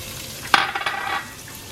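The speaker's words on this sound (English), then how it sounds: "Now, once our oil is heated, we're going to add our onions" Onions dropped into hot oil for a marinara sauce, a sudden sizzle that flares up, crackles for about half a second and then settles to a softer hiss.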